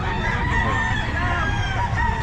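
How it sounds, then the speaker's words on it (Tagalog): Chickens and roosters at the Bocaue pet market, a dense flock clucking and crowing together nearby in a steady, overlapping din. "Dami pa siyang mga manok."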